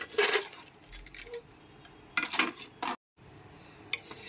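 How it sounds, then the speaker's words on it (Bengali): A pressure cooker lid is opened after a mutton and potato curry has cooked, sharp metallic clanks and rattles of the lid close by, separated by short pauses and one brief silent gap. "এবার ঢাকনাটা খুলে দেখে নিচ্ছি"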